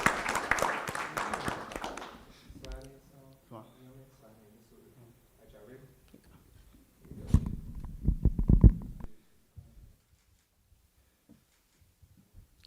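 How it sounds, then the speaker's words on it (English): A school board meeting audience applauds young men who competed at the State Bee: a short burst of clapping opens, talking follows, then a second louder round of clapping rises and fades into near silence. "Let's give these young men a round of applause."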